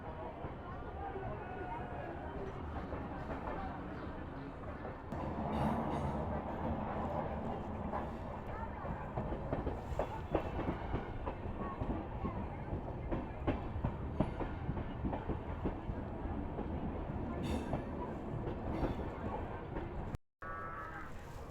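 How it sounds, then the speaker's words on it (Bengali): The Sealdah Ballia Express, a newly LHB-coached train, runs on tracks out of Naihati Junction toward Bandel with a continuous rolling rumble and intermittent clickety-clack joints, heard from onboard, with a voice speaking over it. "আমাদের ট্রেন এগোচ্ছে ব্যান্ডেলের দিকে"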